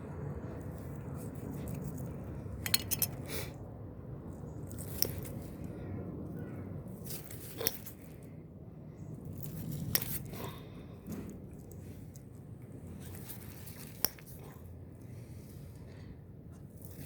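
A knife slices through a catfish during cleaning, giving soft wet cuts and scattered sharp clicks and scrapes over a low, steady outdoor background, close and fairly quiet.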